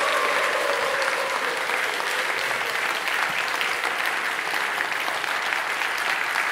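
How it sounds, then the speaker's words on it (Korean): A church congregation at a Friday night worship service applauds to welcome a pastor, producing dense, steady clapping that fills the room evenly for several seconds with a few faint cheers. "큰 박수로 환호성으로 목사님 환영하겠습니다."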